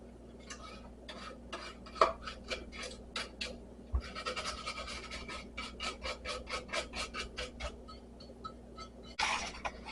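Lemons being zested on a grater make rhythmic, close rasping strokes in quick bursts, with a couple of sharper knocks of the grater and a faster flurry of scraping near the end, heard alone without talk.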